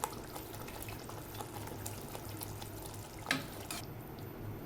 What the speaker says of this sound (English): Add in the channa with the water that was remaining in the cooker.